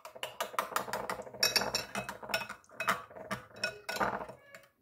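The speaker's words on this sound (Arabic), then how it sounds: "هلا رح اخلطهم كلهم بقلب بعض بهذا الشكل." Black seeds and cinnamon tossed together in a bowl, a spoon clinking and scraping against the sides in a quick, steady series of close metallic taps and rattles with no talk over them.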